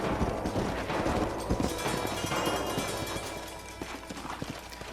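Horse hooves clatter in the video game Red Dead Redemption, a rapid clip-clop rhythm from several horses, mixed with bursts of distant gunfire and game ambience, no talking.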